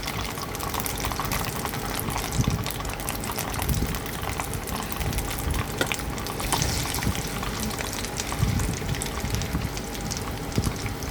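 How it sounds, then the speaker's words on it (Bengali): A food item frying in a pan on its second side after being flipped, giving a steady, continuous sizzle and bubbling hiss throughout, fairly close, with no talk. "এবার অপর দিকটা ভালো করে ভেজে নেব"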